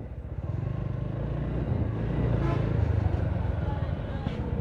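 A TVS Apache RTR 160 4V motorcycle engine idles with a steady, close, low rumble that runs the whole time, with no talking.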